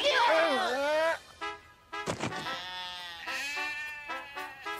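A cartoon sheep bleats in a long quavering cry, then gives shorter bleats, close and clear, with voices speaking around the calls.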